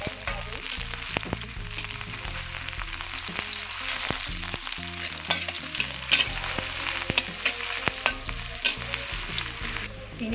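Garlic and shallots sizzle steadily in hot oil in a pan, with close, continuous frying crackle and frequent scraping and tapping of a utensil stirring.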